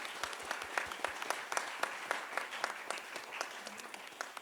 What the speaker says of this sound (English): I think they all deserve a very big round of applause.